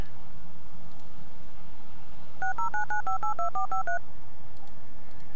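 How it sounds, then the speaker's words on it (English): A string of about ten quick touch-tone beeps dials a phone in a video game, sounding clearly over quiet background ambience, followed by silence. "we'll get our good buddy on the phone again"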